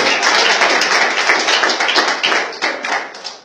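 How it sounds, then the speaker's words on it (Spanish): A church congregation applauds close and loud, with crisp individual claps standing out in a dense burst that gradually thins toward the end. "Si quiere, darle un aplauso al Señor que Él está aquí."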